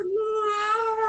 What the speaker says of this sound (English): He starts speaking that weird cat language.